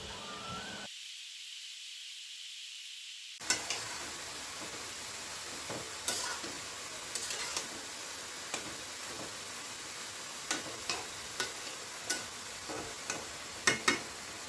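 Fish curry boiling in a pot hisses steadily once the lid comes off, after a brief muffled start, with a spoon scraping and clinking against the pot at irregular intervals, close by, with no voices.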